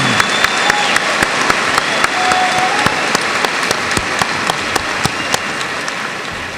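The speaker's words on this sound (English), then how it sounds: "Let's give them a big round of applause." A graduation audience applauds steadily, dense clapping from a large crowd filling the room throughout with a few sharper individual claps standing out.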